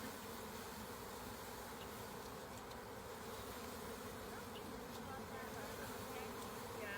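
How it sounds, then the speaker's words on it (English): Honeybees buzz steadily and continuously around a newly set-up beehive on a farm, a dense, close swarm drone that stays loud throughout with faint voices in the background. "here we have a bee friend. We have a bee, Basin"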